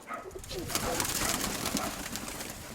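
Soft pigeon cooing amid a busy, noisy backdrop of fluttering and rustle, fairly close, with low murmuring calls repeating through the clip.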